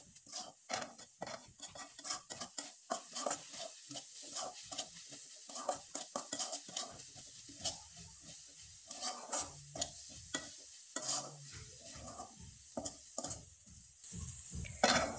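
Coconut filling for pitha being stirred in a pan, with a steady run of scraping, sizzling strokes close by and no talking.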